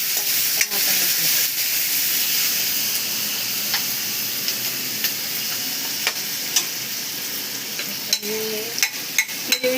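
Tomatoes fry in a pan with a loud, steady sizzling hiss, interrupted by scattered clicks and scraping stir sounds close by.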